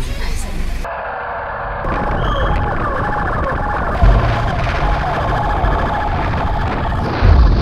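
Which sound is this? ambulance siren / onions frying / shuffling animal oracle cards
ambulance siren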